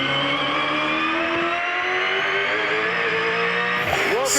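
A race car lapping the Mount Panorama circuit, its engine loud and close, climbing steadily through the gears before a sharp downshift and quick revs near the end.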